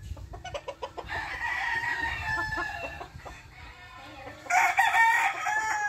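Indian gamecock rooster crowing nearby, one drawn-out crow followed by a second loud crow, with soft clucks and scratching at the start.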